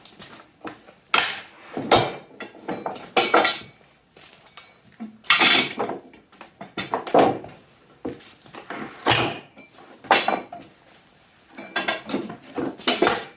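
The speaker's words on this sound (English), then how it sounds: "Now I've just got some nails to hammer out." Irregular bursts of sharp hammer blows knocking nails out of wooden pallet boards, close by, with brief pauses between clusters of strikes.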